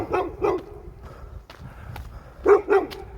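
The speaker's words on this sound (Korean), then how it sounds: "강아지 소리가 나네요." A dog barks in short bursts, a pair of barks early on, then another close pair near the end, with faint footsteps and outdoor noise between.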